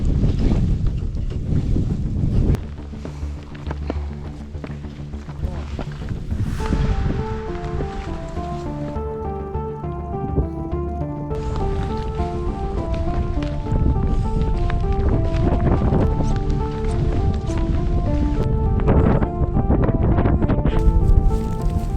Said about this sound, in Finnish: 9 metriä sekunnissa tuulta, -6 astetta, aika vilakka.